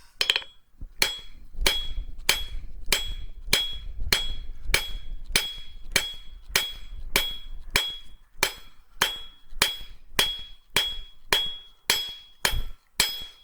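A hammer's round face forges a metal leaf on an anvil: a long, steady series of about eighteen ringing, evenly spaced strikes, close and alone.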